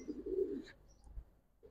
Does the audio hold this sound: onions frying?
no